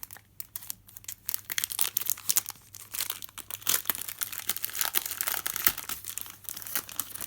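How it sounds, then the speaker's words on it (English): Paper envelope being handled and torn open, close-up irregular crinkling, rustling and tearing bursts continuing throughout, with a low steady hum underneath. "because I've just opened the envelope"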